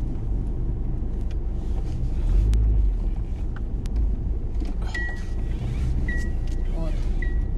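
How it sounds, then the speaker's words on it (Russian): Cars on a road passing nearby, a steady rumbling traffic drone with a louder swell mid-clip and brief higher whines and squeaks near the end, no talk over it. "там сейчас машины набегут"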